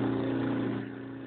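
A Century 1/6 hp split-phase electric motor (115 volt, 1750 RPM) spins up with a steady mid-pitched hum close by, easing slightly in level as it settles.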